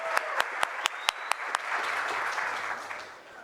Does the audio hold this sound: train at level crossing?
no